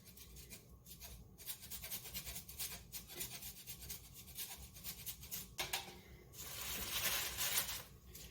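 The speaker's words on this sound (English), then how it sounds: "I always like to fresh grate my Parmesan" Fresh Parmesan cheese is grated with quick, rough rasping strokes, faint and close, with a brief louder burst of grating toward the end and no talk.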